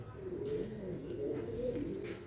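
Pigeons in a home loft coo in soft, low, rolling calls that continue through a short stretch, close and moderately quiet.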